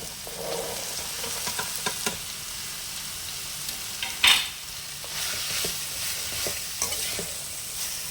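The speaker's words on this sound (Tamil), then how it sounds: "கேரட் பீன்ஸை கொட்டிட்டு கிளறிக்கலாம்." Carrots and beans frying in a pan for egg fried rice, stirred with a spoon: a quiet continuous sizzle with scattered scraping strokes and one sharper clank of utensil on the pan, close and without talk.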